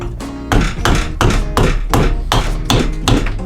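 Estwing Sportsman's axe chopping into wood to split out the pith for spoon carving: about seven sharp, close, loud thwacks in a quick uneven rhythm, each ringing briefly before the next.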